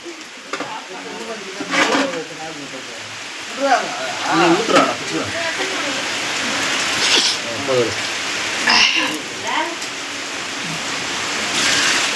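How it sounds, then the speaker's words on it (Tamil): Heavy rain pours down in a dense, continuous hiss, with a person talking over it at intervals. "நல்ல மழை ஊற்றுன்னு ஊற்றுது"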